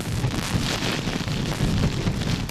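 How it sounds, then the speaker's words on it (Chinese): Typhoon gale and heavy rain lash the Hong Kong shoreline under a No. 8 storm signal, a dense continuous rushing roar with wind buffeting the microphone throughout. "强风夹杂大雨"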